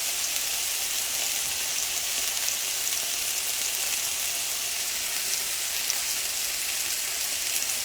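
Steady bright sizzle of food searing in a hot pan for a vegan peas and quinoa with pineapple dish, continuous and fairly close with no talking.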